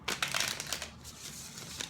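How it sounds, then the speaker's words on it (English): Tarot cards are shuffled by hand, giving a quick run of crisp papery riffles and crinkles that trail off into softer rustling, close and fairly quiet. "One last shuffle."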